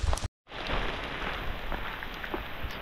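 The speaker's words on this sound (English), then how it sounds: "Now it's freaking hailing on me." Hail coming down in the woods, a dense steady patter of small pellets striking leaves and ground close by, broken by a brief dropout near the start, with a few sharper individual hits.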